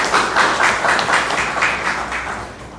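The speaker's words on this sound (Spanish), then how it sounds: "el doctor Edgar Luis Mitacuray, para quien pido fuertes aplausos" Applause from a conference audience, a steady patter of many hands clapping at moderate volume for a few seconds with no talk over it.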